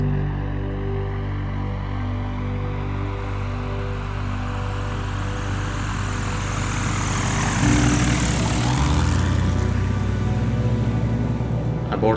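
A small propeller airplane aborts a landing on a riverside gravel bar strewn with rocks and logs. A loud, close engine drone holds steady, then surges to a stronger, rising roar as power comes up for the go-around.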